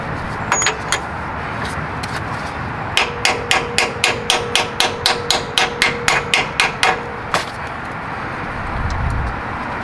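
Steady run of about fifteen sharp metallic hammer blows on a socket, pounding a new wheel bearing into a Grand Marquis wheel hub, struck in even rhythm up close after a few scattered taps, with light shop clatter around it.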